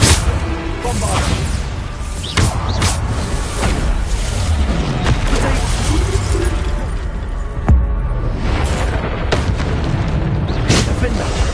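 Bombarda spell explosions in Hogwarts Legacy, played on hard difficulty: loud booming blasts and shattering bursts land one after another in constant combat noise, with voices calling out over the din.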